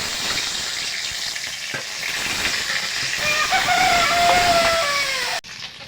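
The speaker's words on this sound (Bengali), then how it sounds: "এই মাছগুলো ভেজে নেব।" Snakehead fish frying in hot oil, a loud, dense, continuous sizzle with crackling and spitting that builds toward the end, then cuts off abruptly.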